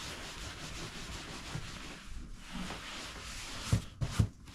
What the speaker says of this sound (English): Give it a good rub, because the heat, the warmth will help with the glue.